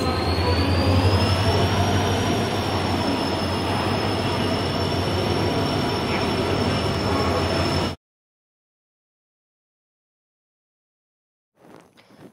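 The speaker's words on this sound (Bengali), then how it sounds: "1161 কিলোমিটার হাওড়া জগদলপুর সমলেশ্বরী এক্সপ্রেস।" The Samaleswari Express from Howrah to Jagdalpur rumbles along loudly with steady wheel and carriage noise and a high squealing tone, then cuts to silence before a faint brief sound near the end.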